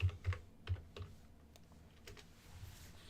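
Soft tapping on a computer keyboard, a short run of quick keystrokes at the start, then scattered lighter clicks, quiet and close with no talking.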